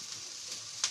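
Sliced onion sizzling as it sautés in a little oil for squash blossoms with mushrooms, a steady soft hiss with a brief louder crackle near the end, close and on its own.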